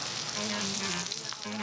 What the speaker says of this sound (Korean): 지글지글 맛있는 소리 내며 등장한 고수의 소곱창 구이